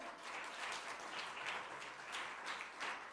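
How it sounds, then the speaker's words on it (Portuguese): Congregation at a Portuguese-language church service applauding the Lord, a soft, steady patter of many hands clapping heard at a distance throughout. "Aplauda ao Senhor."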